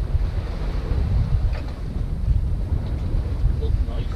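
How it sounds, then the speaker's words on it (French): Wind at sea aboard a sailboat crossing the Bay of Biscay from Port Médoc, steady gusty buffeting across the microphone with low rumbling water and wave wash underneath, constant and close. "Il y a un petit vent"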